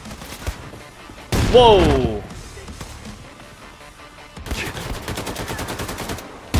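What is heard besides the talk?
gunfire in Wolfenstein II: The New Colossus video game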